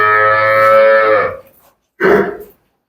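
A buffalo at a village farm lets out a loud, close, drawn-out low moo, followed after a short pause by a second shorter call.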